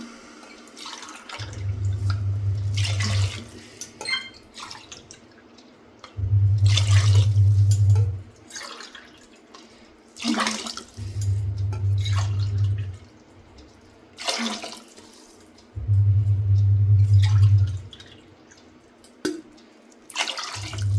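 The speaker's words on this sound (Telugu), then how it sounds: "గ్లాస్కి రెండు గ్లాసులు వాటర్ వేసుకుంటున్నాను" Water is poured in repeated bursts into a pot for cooking rice, each steady pour lasting a couple of seconds between pauses with small drips, close and moderately loud, no voices.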